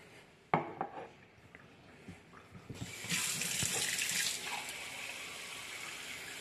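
Tap water runs into a sink to rinse tomato seeds, starting with a clatter of a container and then a steady splashing stream that rises midway, close and clear with no speech.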